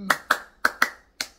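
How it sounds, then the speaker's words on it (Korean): Five sharp, separate hand claps with uneven spacing ring out close by, given as applause of praise to God during a morning sermon. "영광의 박수."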